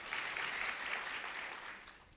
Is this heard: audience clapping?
yes